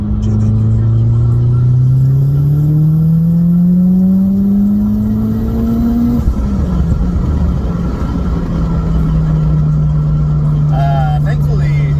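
A Mitsubishi Evo X engine climbs steadily in a loud, close rev for about six seconds, then settles into a lower sustained drone. Light speech-like sounds sit under the engine noise.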